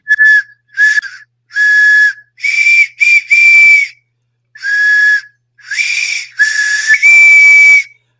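A shrill whistle plays Here Comes the Bride in separate phrases of held notes, loud and close, with short pauses between, no voices.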